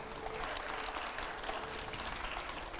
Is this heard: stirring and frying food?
no